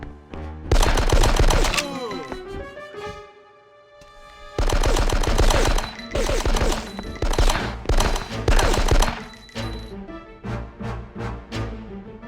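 Gunfire in the GameCube game Die Hard: Vendetta, with loud rapid machine-gun bursts in two long volleys separated by a brief pause, then lighter scattered shots.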